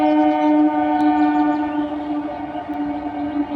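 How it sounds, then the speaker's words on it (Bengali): A local passenger train from Bagnan sounds a loud, sustained, steady horn tone as it passes, close and dominant, with faint rail rumble beneath and no speech. "এই তো বাগনান থেকে যাচ্ছে লোকালটা"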